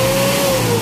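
A car engine held at high revs, around 3,500 to 4,000 RPM, produces a steady, loud, close-up droning whine for under a second with no talk.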